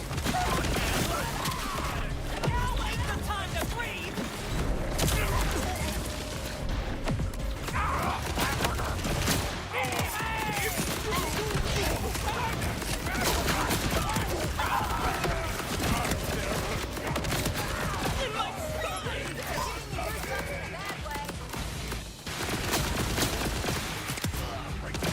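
Gunfire from a weapon in Borderlands 4 on PS5, played as Vex: a dense, nearly continuous fusillade of rapid shots with mechanical clatter and impacts, loud and sustained throughout with no pauses.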